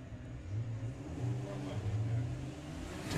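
VW drag race car launching at Bug Jam VWDRC 2022 qualifying, a loud sustained engine roar with rising revs lasting a few seconds, heard at close-to-mid distance with a steady rumbling low end.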